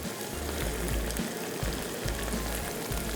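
Masala frying and roasting in a hot pan, a dense continuous sizzle with crackling spits, loud and close, steady throughout with no voices.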